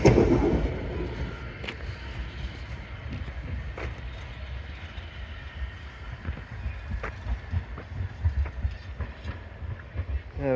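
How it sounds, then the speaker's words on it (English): A tram pulls away at Highbury Vale, a low rolling rumble with rail clicks and wind noise, moderately distant and steady, fading then swelling slightly as it departs. "see the other tram going off"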